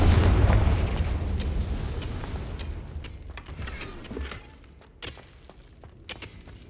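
A Confringo blasting curse goes off in Hogwarts Legacy: a loud, rumbling explosion that decays over several seconds, followed by a few sharper cracks and bursts of debris.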